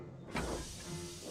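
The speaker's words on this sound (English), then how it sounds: "Thomas's boiler was bubbling, and his steam was wheezing." Steam hisses from Thomas the Tank Engine in the Sodor Online game: a steady, broad hiss that swells suddenly and then keeps going over a low rumble, with no voices.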